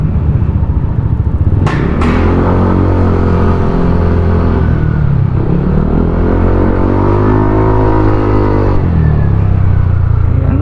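Loud motorcycle engines revving at a crowded bike club gathering venue, deep rumbling idle punctuated by sharp throttle blips and rising, falling revs close by, with a brief high whine early on.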